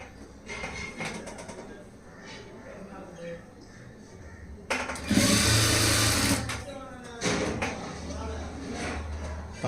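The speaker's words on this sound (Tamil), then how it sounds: "மார்க் பண்ணிவிட்டு ஸ்ட்ரைட்டாக தையல் போட்டுடலாம்" A sewing machine stitches a 3-dot blouse in short runs, a fast mechanical whir that starts and stops, with one louder, longer burst midway and quieter handling noises between.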